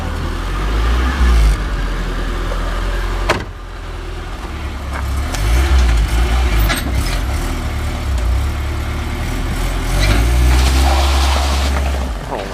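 A car's engine rumbles loudly up close before a lap on a flat tire after a burnout, a deep idle with repeated heavier revs swelling and easing, and a sharp knock partway through.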